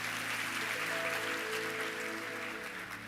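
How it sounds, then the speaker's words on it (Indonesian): An audience at a youth conference applauds, a dense, sustained wash of clapping that holds steady and eases slightly toward the end, with musical tones sounding underneath. "Kasih tepuk tangan sekali lagi buat Tuhan"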